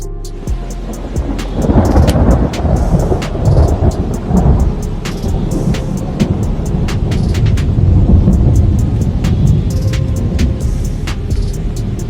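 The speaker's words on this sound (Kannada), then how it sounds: "ಆಗಲೇ ನೋಡಿ ಅವು ನೆಲಕ್ಕೆ ಅಪ್ಪಳಿಸಿ ಮಳೆಯಾಗಿ ಸುರಿಯುತ್ತವೆ" Heavy rain pouring down with a deep, rolling rumble of thunder, a dense steady roar from start to finish and no voices.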